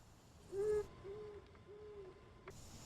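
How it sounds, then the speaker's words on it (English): An owl gives three soft, evenly spaced hoots, faint and fairly distant, over a quiet background with a brief hiss at the start and end. "It's an owl."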